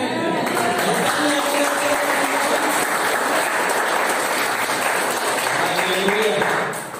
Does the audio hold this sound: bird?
no